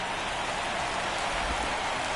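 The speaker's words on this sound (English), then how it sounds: "This rain is not letting up." Steady heavy rain pouring down during a baseball game, a dense even hiss close and constant with no voices.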